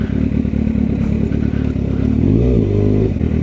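Kawasaki ZX6R motorcycle engine running close by, with a steady rumble that swells into a brief rev around the middle before settling back down.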